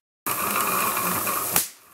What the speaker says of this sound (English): The motor is an old Vorwerk motor, produced around the 50s.